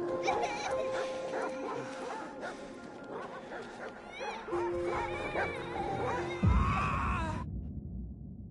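Barks and whimpers from a dog in the World War I game Valiant Hearts, set over a busy game soundtrack, with a louder low thump near the end before everything cuts off.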